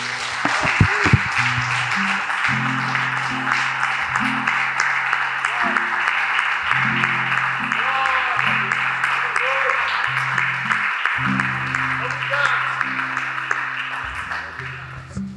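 Sustained congregation applause in an evangelical church service, a steady wash of clapping lasting the whole stretch, with organ or keyboard chords sounding underneath and occasional voices.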